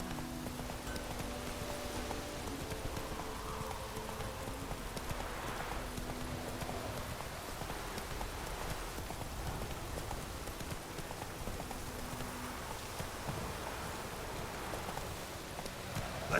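Roach, Geralt's horse in The Witcher 3, galloping through rain, a steady patter of hoofbeats blended with rainfall, moderately loud and continuous.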